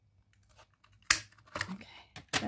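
Paper cut with a 1-inch punch and snipped out for a jewellery box, giving a few sharp, close crunching snips and clicks among quiet handling sounds.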